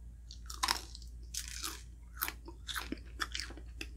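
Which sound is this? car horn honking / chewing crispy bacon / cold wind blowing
chewing crispy bacon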